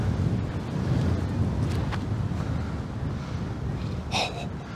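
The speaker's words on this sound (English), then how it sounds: "I somehow think the wind has picked up since we've been here." Wind gusts across an outdoor disc golf course, buffeting the microphone with a continuous low rumble that stays fairly loud throughout, with a faint brief squeak near the end.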